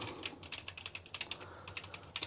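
Quick, light key clicks come from typing on a repaired ZX Spectrum 128 +2 keyboard after a Z80 CPU swap, an irregular patter of soft taps heard close and quiet.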